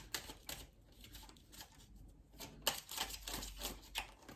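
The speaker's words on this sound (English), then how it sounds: "I don't know why I'm shuffling again, but I am" Tarot cards are shuffled by hand in quick, soft riffling bursts, a faint close-up flutter of papery slaps with a sharper snap near the middle and no talking.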